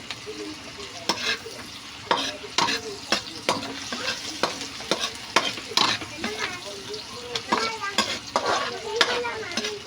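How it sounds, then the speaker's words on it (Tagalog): Steady sizzling in a pan as milkfish is sautéed for a salted egg dish, broken by frequent scraping and clacking stirs of a utensil against the pan, close and fairly loud with no talking. "Gigisa na po natin yan."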